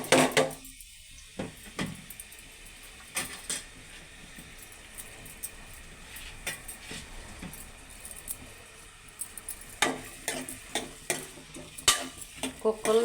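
Onions and green chillies fry in hot oil in a pan for a country chicken curry, giving a constant sizzle broken by frequent spatula scrapes and knocks, heard close up, with a brief lull near the start.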